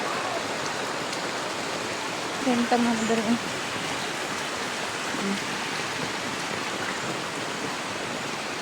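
Floodwater rushes through a village in a steady, broad wash of flowing water that fills the whole scene, and a voice speaks briefly over it.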